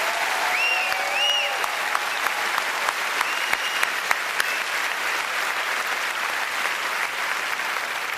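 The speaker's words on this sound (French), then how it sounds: "Une main d'applaudissement pour l'équipe technique du Saint-Denis." A theatre audience at a comedy gala claps steadily for the technical crew, a dense, sustained wash of applause from a large crowd, with a brief whistle rising over it early on.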